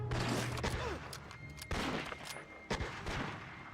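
Gunfire in the Medal of Honor: Rising Sun video game, several sharp bursts of shots in quick succession among fainter battle noise, fairly quiet overall.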